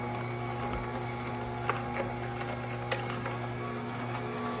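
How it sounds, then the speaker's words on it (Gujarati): An electric juicer whirs steadily as it runs, a constant motor hum with faint clicks on top while chunks of bottle gourd are fed in and crushed, with no voices. "અહીંયાથી આવી રીતે ચાલુ થાય એટલે અહીંયાથી દૂધી નાખશું અને થોડું ક્રશ કરશું આનાથી"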